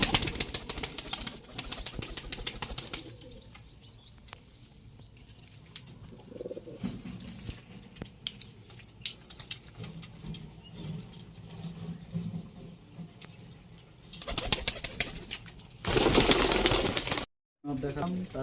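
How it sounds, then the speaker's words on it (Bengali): A male Dubai breed pigeon is handled and released, with soft rustling and a burst of loud wing flapping near the end. Someone talks earlier in the scene. "নর পায়রা, এটাকে ছাড়ছি দেখেন।"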